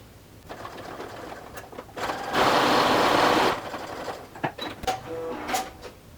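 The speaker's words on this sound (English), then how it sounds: "I also like to move my needle position over so that it's stitching right on that edge." A sewing machine stitches along the top hem edge of a patch pocket, a dense steady whir lasting about a second amid quieter handling noises and clicks.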